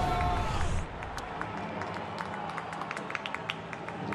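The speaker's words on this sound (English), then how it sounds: "I think they're just going to cheer for everything that happens to Billy Hamilton tonight" Crowd at a Chicago White Sox versus Cincinnati Reds baseball game cheering and clapping, a loud roar that drops off quickly into a steady murmur of spectators with scattered claps and shouts, a commentator's voice running over it.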